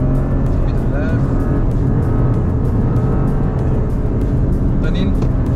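Toyota GR Corolla engine pulling hard at full throttle on a track, a loud, continuous dense roar that holds steady throughout, with faint tyre or wind noise layered on top.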